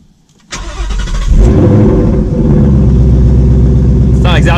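A Ford Mustang GT V8 cranks and fires up, settling into a loud, steady rumbling idle close by after a brief starter burst.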